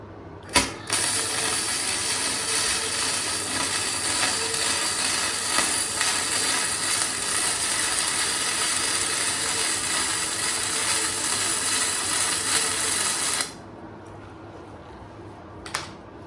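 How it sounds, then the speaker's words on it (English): A gasless MIG hobby welder runs a long continuous bead on a steel bumper, a loud steady crackling buzz lasting about thirteen seconds, bracketed by short arc strikes at the start and end. "I got that side welded up, so I'll weld this side up and yeah, watch me do this."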